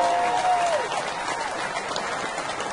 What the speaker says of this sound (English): Oh, thank you for the applause.